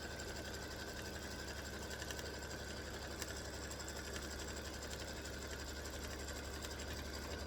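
An embroidery sewing machine hums and chatters continuously, stitching an appliqué turkey block on fabric, its rapid steady needle rhythm close and unbroken throughout.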